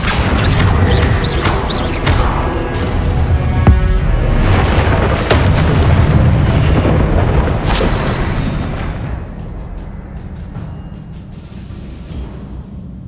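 A fire spell cast in the video game Hogwarts Legacy bursts out as a loud, dense roar with sharp crackling bangs through the middle, then thins to a quieter rumbling tail.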